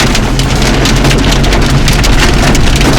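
Hail pours down in a hailstorm at Huai Nam Dang forest, a loud, dense, unbroken hiss and patter of ice striking surfaces close by, with no voices.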